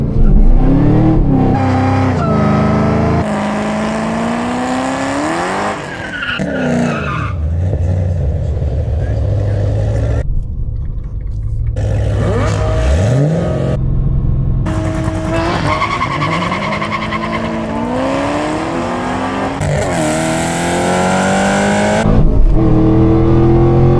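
A Chevrolet Camaro ZL1 racing a Porsche Cayman GT4 at a track, loud engines revving and climbing through gears with repeated rising and falling pitch, tire noise and a voice talking over it.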